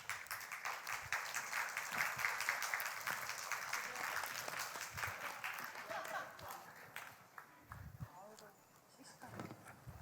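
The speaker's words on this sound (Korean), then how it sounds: "나올 때 여러분 뜨거운 박수로 맞아주시기 바랍니다" A church congregation claps warmly to welcome a guest painter onto the stage, a dense, continuous round of applause that thins toward the end, with speech over it.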